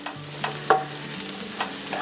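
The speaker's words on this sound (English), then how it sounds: "we're gonna let the mushrooms cook" Mushrooms cooking over turned-up high heat in a pan, with a soft steady sizzle broken by a few clinks and scrapes of stirring, close by and without talk.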